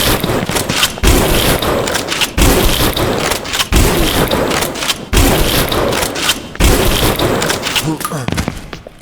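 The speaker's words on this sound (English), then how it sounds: "we're gonna switch over to Trusty the shotgun" Repeated heavy shotgun blasts in the horror video game Eternal Evil, five loud booming shots spaced about a second and a half apart over a dense, busy game soundscape.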